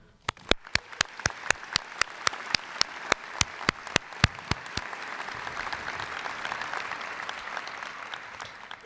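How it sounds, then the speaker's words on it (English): At a 2023 medical school graduation ceremony, sharp, evenly spaced claps from one person close by lead in, then a large audience joins in sustained applause that swells and fills the hall. "let's just take a moment to get a round of applause for everyone."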